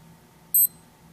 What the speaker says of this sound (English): Also button tones